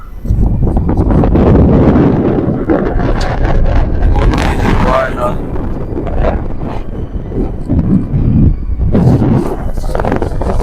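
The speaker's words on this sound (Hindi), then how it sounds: "ये देख कितनी तेज हवा चल रही है।" Strong gusting wind battering close to the microphone, a loud roaring rumble that swells and eases, with a voice faintly mixed in.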